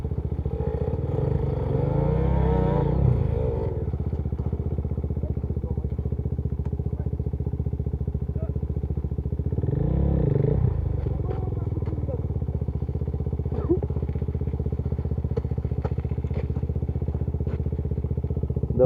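Motorcycles ridden through a forest, the engines humming steadily at low revs with two louder revving surges, as light clatter and faint ticks sound underneath.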